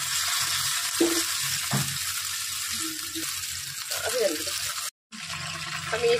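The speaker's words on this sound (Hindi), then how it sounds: "चलिए अब हम इसको फ्राई करते हैं इस तरह से एक एक करके" Mutton malai tikka pieces frying one by one in a pan: a steady, fairly loud sizzle with clinks and scrapes from turning the pieces, and a brief drop-out partway through.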